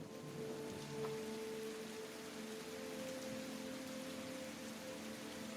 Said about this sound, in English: The wind is blowing in your face. The rain is blowing in your face